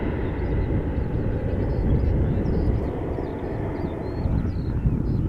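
A KLM Embraer regional jet departing Amsterdam Schiphol, heard as a steady, fairly loud rumbling roar that holds throughout, with some wind buffeting the microphone outdoors.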